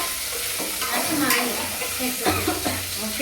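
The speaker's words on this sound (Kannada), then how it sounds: "ಫಸ್ಟ್ ನುಗ್ಗೆಕಾಯಿ ಫ್ರೈ ಮಾಡ್ಕೊಳ್ಳಿ ಆಯಿಲಲ್ಲಿ" Drumsticks fry in hot oil and are stirred, a loud continuous sizzle broken by scraping stirs against the pan, with no voice over it.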